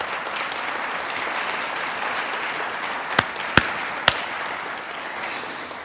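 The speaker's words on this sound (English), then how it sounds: "Let's give Jennifer a big round of applause." An audience claps steadily at a Vietnam War Veterans Day welcome ceremony to honor a Gold Star family member, a dense even wash of applause with a few sharp louder claps near the end.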